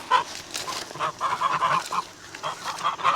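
Geese honk repeatedly at close range in an irregular series of loud, nasal calls, with no talk over them.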